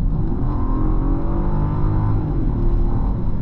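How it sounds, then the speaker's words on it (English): A 2025 Genesis GV80 Coupe's V6 engine roars loudly and continuously in sport mode, pitch rising as it revs hard under full throttle, close and smooth with no voices. "it just roars along like a nice refined V6"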